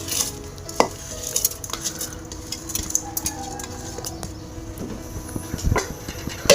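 Rice and masoor dal are stirred in water in a pressure cooker pot, giving irregular scraping clinks and soft sloshing close by, with a faint low hum behind.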